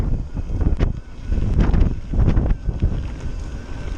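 Gusty wind buffets the microphone in uneven rumbling bursts, loud and close, with no voices.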